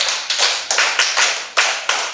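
A classroom of pupils claps for a girl in short, uneven bursts of hand claps, several sharp rounds rising and fading over a couple of seconds, fairly close and with no talking.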